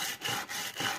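Steel chisel edge honed on a sharpening stone, a close, steady abrasive rubbing in three even back-and-forth strokes with brief pauses between.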